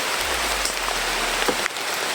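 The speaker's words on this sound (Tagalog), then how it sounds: "ulan na talaga" Rain falling steadily, a dense even hiss of drops on surfaces that continues throughout, with no voices.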